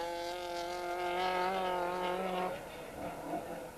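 A Vauxhall Chevette rally car drives a stage at the 1991 West Cork Rally, its engine note droning steadily at high revs, then easing off as the car passes and fades.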